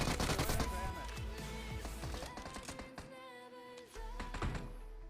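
A close, sharp burst of gunfire from a PUBG Mobile match, followed by scattered shots and thuds under a steady game background; no words are spoken.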